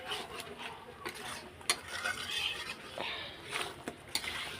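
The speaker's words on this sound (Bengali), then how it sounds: "এই যে সিদ্ধ করা আলু দিয়ে দিলাম। এবার একটু কষিয়ে নেব," Boiled potatoes being stirred and sautéed for Bengali egg curry in a home kitchen, irregular scraping and rubbing of a spoon against a pan with occasional light clinks, close and moderately quiet.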